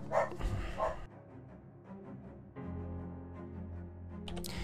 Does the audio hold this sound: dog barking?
yes